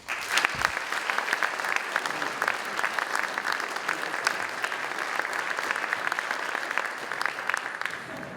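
A lecture audience applauds a speaker being welcomed to the podium, a steady, dense wash of clapping from a large crowd that lasts throughout without pause.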